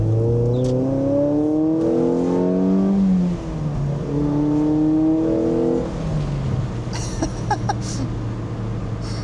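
A Mazda Miata NC engine blips and revs through a heel-and-toe downshift, with rising and falling pitch sweeps heard from inside the car and steady road noise underneath.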